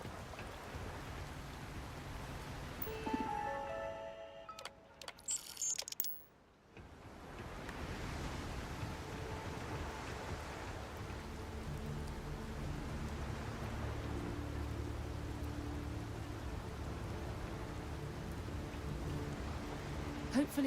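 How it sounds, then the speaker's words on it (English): Rain ambience in the video game Starfield, a broad steady hiss of rainfall that continues after a short burst of other game sounds and a brief dip near the start. "I love the rain sounds."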